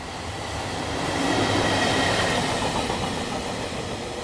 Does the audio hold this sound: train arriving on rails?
yes